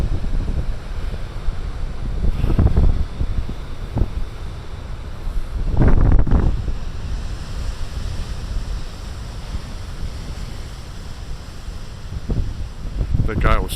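Big ocean waves break along a beach, giving rumbling surges every few seconds over heavy wind buffeting on the microphone, with no one talking.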